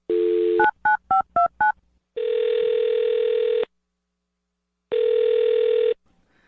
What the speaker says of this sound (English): I'll dial his phone number, get him on the phone